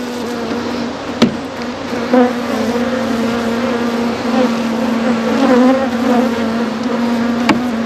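A honeybee swarm newly moved into a hive box drones loudly and continuously, a dense close buzz with a steady pitch and a couple of sharp clicks.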